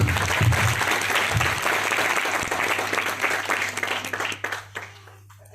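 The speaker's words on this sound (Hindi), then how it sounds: "एक बार जोरदार तालियां सभी के लिए बजाइए प्लीज" An audience claps loudly together, a dense burst of applause that thins out and fades toward the end.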